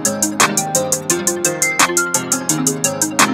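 Hip-hop beat built in FL Studio 20 with the 808 bass removed, leaving piano-style chords, melodic layers and crisp hi-hat and snare hits in a steady loop, loud and close, no talking.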